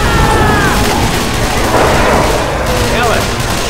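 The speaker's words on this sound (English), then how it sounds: "Throwing a Molotov!" A Molotov cocktail is thrown in the game Left 4 Dead 2, and a loud, dense burst of roaring, booming combat noise fills the clip throughout.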